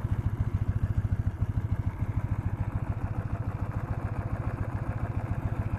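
Engine running quietly under snow, a steady rhythmic low thumping idle with even pulses, close and unaccompanied by talk.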